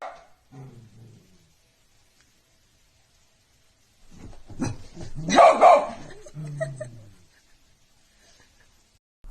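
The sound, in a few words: dogs barking at Revenant jump scare from Apex Legends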